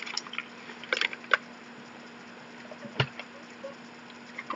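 Faint crunching and biting come in a few scattered bursts as someone chews lemon-flavoured American hard candy, against a quiet background with a steady low hum.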